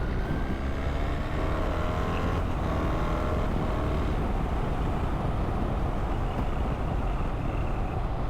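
A BMW R1300GS motorcycle engine pulling steadily while riding, a loud continuous low drone with heavy wind rush, unbroken and close throughout, no speech.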